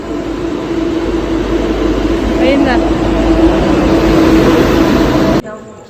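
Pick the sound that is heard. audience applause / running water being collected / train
train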